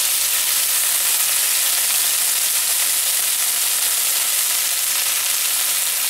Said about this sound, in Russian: Тоже его маленько обжариваем.